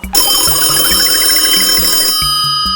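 A loud electronic telephone ring repeats in quick warbling bursts, close and continuous, then briefly changes tone near the end.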